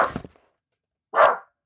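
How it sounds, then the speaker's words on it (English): A single loud, close dog bark at the end, after a brief trailing sound and a stretch of silence. "Sorry, that's my dog."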